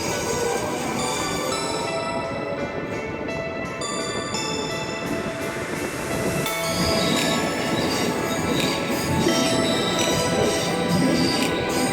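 Rail travel in the Swiss Alps near Kleine Scheidegg: a steady, loud rumble of train wheels and carriage noise runs throughout, with occasional metallic clanks and a brief bright squeal.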